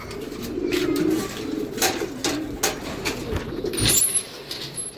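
Racing pigeons coo softly at the loft on arrival during General Luna training, low steady murmurs with a few faint flutters and scattered background noises, no talking.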